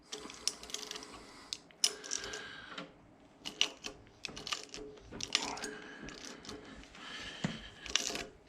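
A socket ratchet backing off a torque converter bolt on a 2012 Hemi 1500, sharp clicking pawl bursts in irregular runs with short pauses between, close and fairly quiet.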